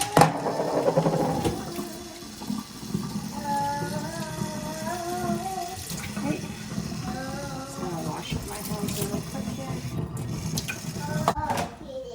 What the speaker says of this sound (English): I have a colander here, which I'm just gonna put in the colander to drain for 2 seconds.